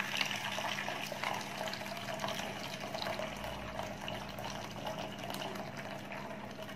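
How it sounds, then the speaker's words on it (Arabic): Boiling water poured from a kettle, about three cups' worth, into a container; a steady close splashing, gurgling stream of liquid runs throughout with no voices. "هنحط ميه مغليه من الكتل كده اهو مقدار 3 كوبايات"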